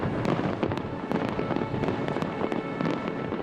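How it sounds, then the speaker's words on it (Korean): Dense fireworks bursting in the sky over a large autumn fireworks festival in Seoul, a continuous crackling barrage of many sharp overlapping pops and booms, loud and steady throughout with no talking. "수만 발의 불꽃이 하늘에서 빛처럼 꽃잎처럼 퍼집니다."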